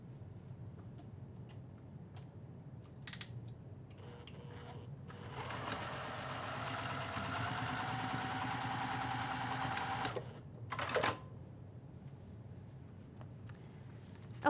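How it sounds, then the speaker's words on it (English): A sewing machine topstitches the edge of a leather bag's slip pocket, running in one steady close burst of about five seconds between softer handling sounds. "I'm going to take this over to the sewing machine, and I'm going to stitch the top edge down"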